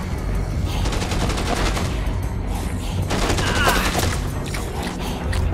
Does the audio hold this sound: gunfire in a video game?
yes